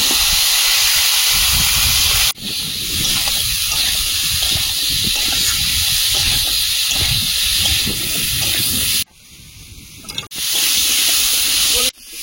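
Elephant foot yam tipped into hot oil with turmeric, salt, coriander and chilli powder, a loud, close, roaring hiss of steam and frying that runs steadily, cutting out briefly twice before resuming.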